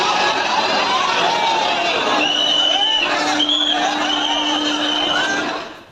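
A dense crowd packs a Surat railway station platform, filling the air with a loud, continuous babble of voices. Sustained tonal calls or whistles ring out over the chatter throughout.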